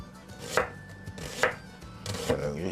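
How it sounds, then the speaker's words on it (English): A knife chops through an onion on a board in a few distinct, evenly spaced strokes, each a sharp crunching thud, close and clear with no talking. "Now to properly chop the onion,"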